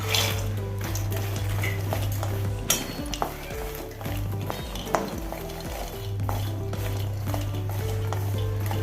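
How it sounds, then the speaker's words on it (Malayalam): Lotus seeds being stirred in ghee in a kadai: a steady low sizzle with repeated scraping and clinks of a metal spoon against the pan, close and continuous, with no talking. "ഇളക്കി കൊടുത്ത് ചെറുതായി ഒന്ന് വാട്ടിയെടുത്ത്"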